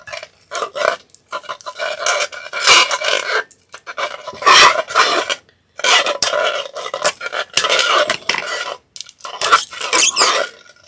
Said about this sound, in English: I'm going to go ahead and cut that shrink wrap